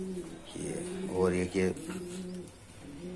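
Pet pigeons coo close by, with a few soft rolling calls, while someone speaks briefly.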